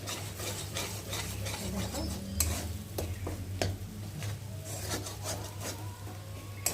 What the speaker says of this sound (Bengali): ডিমটাকে ভালো করে খুঁটি দিয়ে মানে ফাটিয়ে দেবো